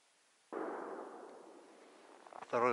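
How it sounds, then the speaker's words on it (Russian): A single sharp rifle shot from afar cracks during an elk hunt with dogs, then a long rolling echo fades out before a voice starts speaking. "Второй выстрел."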